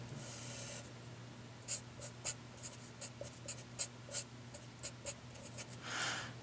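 Pen or chalk writing out a math fraction, heard as a series of faint, sharp taps and short scratchy strokes in an irregular rhythm over a steady low hum.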